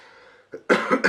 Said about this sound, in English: Excuse me, I cough.